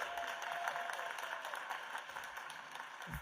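Applause from the audience at a school board swearing-in ceremony, a moderate, continuous patter of clapping from a seated crowd heard at some distance.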